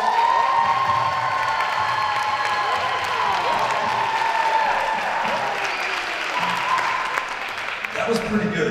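A concert audience at a benefit show breaks into loud applause mixed with cheers and whoops, including children's shouts, sustained throughout with voices in the crowd.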